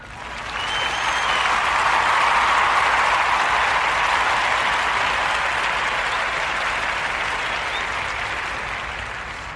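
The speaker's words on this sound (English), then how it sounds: "we're going to give KYRIE a round of applause" A round of applause from a live audience, swelling quickly into loud, dense clapping that holds steady for several seconds before slowly tapering off.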